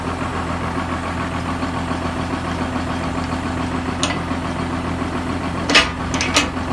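A tractor engine idles in a field at harvest time with a steady low rumble and knocking throb throughout, joined near the end by a few brief sharp clanks.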